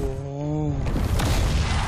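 A tank cannon fires in a mobile tank battle game featuring an Abrams, one deep broadband boom cutting in after a steady engine-like hum and rolling on to the end.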